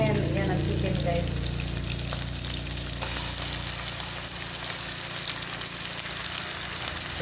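Chicken frying in a pan for adobo cooked with Sprite, a loud close sizzle that settles into a steady crackling hiss throughout.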